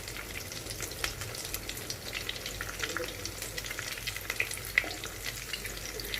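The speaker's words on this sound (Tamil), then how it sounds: "ஒரு பக்கம் நல்லா பொரிஞ்சாக்கல இன்னொரு பக்கம் திருப்பி போட்டுக்கலாங்க." Cutlet patties deep frying in hot oil over a medium-to-high flame, a steady close crackling sizzle with small pops throughout, no voices.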